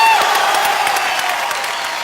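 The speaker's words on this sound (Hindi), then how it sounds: "भारत के राष्ट्रपति के तौर पे अगर अमिताभ बच्चन को ही देखना चाहते हैं तो जोरदार तालियों से बताइए।" A live audience at a televised Indian conversation show gives a brief burst of clapping with some cheering, fairly loud and thinning as it goes on.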